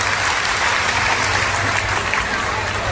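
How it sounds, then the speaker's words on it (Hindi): Loud, sustained applause from a large crowd at a Bageshwar Dham devotional gathering, a dense wash of clapping filling the whole stretch without pause. "जिन्होंने सहयोग किया उन्हें जोरदार ताली बजा के"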